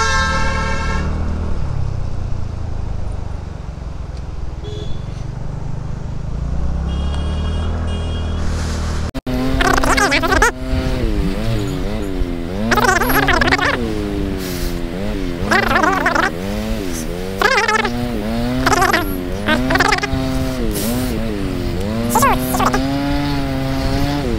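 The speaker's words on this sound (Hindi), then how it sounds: "ओ भाई सुबह सुबह पहाड़ों का ट्रैफिक" Morning traffic on a mountain road near Manali: nearby vehicle engines rumble and rev while horns toot and honk in repeated bursts, with people talking over the noise.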